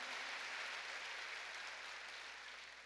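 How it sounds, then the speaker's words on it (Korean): Steady, dense applause from a church congregation during a Korean sermon, filling the space evenly without talk and easing slightly toward the end. "더 세게 깨달은 사람만 박수치라 이게"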